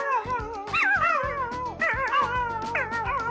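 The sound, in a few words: dog barking in a meme video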